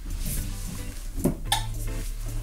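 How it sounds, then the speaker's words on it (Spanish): A utensil scrapes and clinks against a bowl as whipped egg whites are gently folded into yolk batter for fluffy Japanese pancakes, soft close-up taps and swishes with no talking. "Vamos a mezclar de a poco y con movimientos envolventes."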